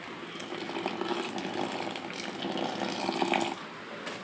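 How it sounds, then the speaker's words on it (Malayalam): Boiling water is poured into rice flour for idiyappam, a close, continuous gushing stream lasting about three and a half seconds before easing off, with no talking. "ഇനി അതിലേക്ക് തിളച്ച വെള്ളം ഒഴിച്ചു കൊടുക്കാം."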